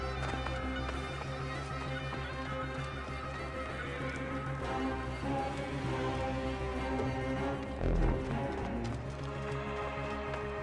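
A horse neighs and whinnies in Assassin's Creed Origins over hoof clip-clops and steady game ambience, one louder burst standing out near the end.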